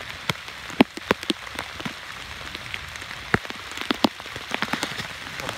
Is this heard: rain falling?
yes